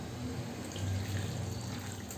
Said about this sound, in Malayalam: മത്തങ്ങ മുങ്ങിക്കിടക്കോളം നമുക്ക് വെള്ളം ചേർത്ത് കൊടുക്കാം